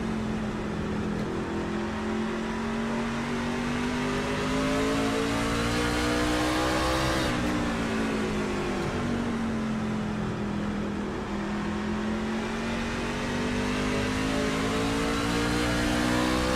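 A race car engine in a sim racing game, loud and sustained as the throttle is held, pitch dipping and climbing through a gear change midway, no voices.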